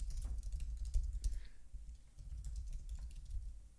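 Keys clatter on a computer keyboard as a set name is typed, a quick irregular run of light taps that pauses briefly, then picks up again.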